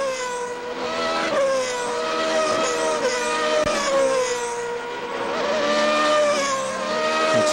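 Formula 3000 race cars stream past on the track at the 2003 race in Austria, their high-pitched engine whines rising and falling as the field goes by, loud and continuous with no speech.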